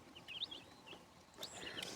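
Tiny chicks cheep in quick, high, faint peeps, a few scattered calls close by over quiet background.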